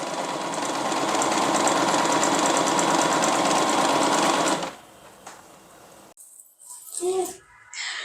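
A sewing machine stitches a simple girl's house dress with a loud, rapid, even mechanical whirr for several seconds, then stops, followed by quieter handling sounds.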